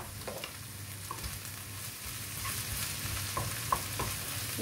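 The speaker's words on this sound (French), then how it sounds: "Et là, on mélange bien et on laisse cuire." Spiced food sizzles and fries in a pan while it is stirred, a steady close crackle broken by a few soft scrapes and clinks of the utensil against the pan, with no talking.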